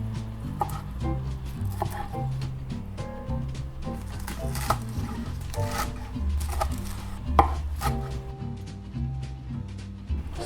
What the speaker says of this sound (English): Once you've given your broccoli rabe a good rinse, we're gonna chop these coarsely